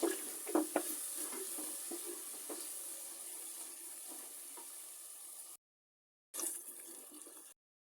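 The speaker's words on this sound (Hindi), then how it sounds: "साथ थोड़ा थोड़ा पानी डाल के मसाले की बुनाई करती रहें।" Spices sizzle in a hot pan with a steady hiss as a little water is added, while a spoon scrapes and clinks now and then; the sound cuts out briefly, then resumes.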